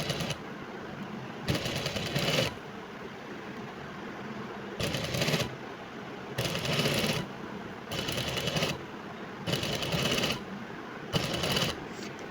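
Sewing machine stitching a neck strip onto a kameez, running in about seven separate bursts of steady whirring with short pauses between, close and fairly quiet over low room noise.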